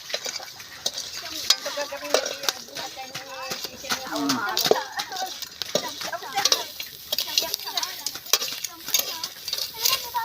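Shrimp (udang) stir-frying in a pan over a wood fire, with steady sizzling and frying crackle, scraping stirs and clinks of a utensil against the pan running throughout, up close and busy.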